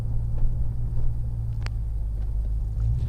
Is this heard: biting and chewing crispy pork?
no